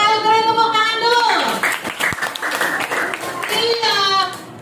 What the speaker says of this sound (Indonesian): Pintar sekali, beri tepuk tangan dulu.